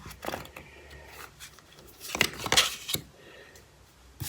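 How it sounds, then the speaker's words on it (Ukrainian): A few dry rustles and short sliding snaps of cards, with brief louder flicks near the middle, close and fairly quiet. "Я витягну зараз чотири карти"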